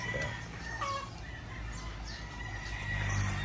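Chickens, pullets and roosters of Boston and Raptor bloodlines in a breeding pen cluck and call faintly, with a distant rooster crow, over low steady background noise.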